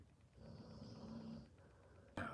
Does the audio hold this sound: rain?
no